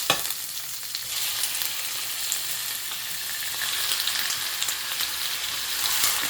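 Garlic sautéing in a pan for adobo gives a steady, close sizzle with crackling pops and occasional stirring scrapes, low in level with no talk.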